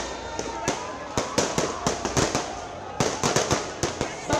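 Firecrackers set off by Aam Aadmi Party workers celebrating Arvind Kejriwal's release from jail on bail: a rapid, irregular string of loud, sharp bangs close by, over a steady crowd murmur.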